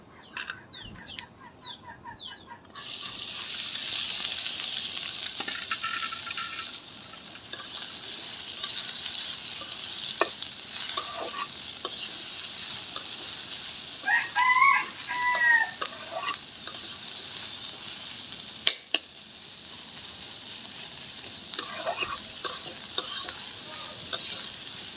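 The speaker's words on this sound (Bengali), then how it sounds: "এখানে একটা কড়াই বসে আমি পরিমাণ মতো তেল দিয়ে নিছি। এখন আমি পেঁয়াজগুলো সব এখানে ঢেলে দিব।" Onions poured into hot oil in a wok sizzle loudly and steadily after a quiet opening with brief clucking fowl, with stirring scrapes and crackles breaking through close by.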